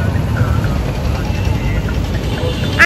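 A van engine on the road gives a steady, loud, close rumble with broadband road noise that continues evenly and then cuts off abruptly at the end.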